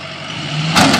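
A wrecked Mustang's engine revs up toward about 4,500 RPM, a steady mid-pitched drone that climbs and grows louder near the end, close and alone.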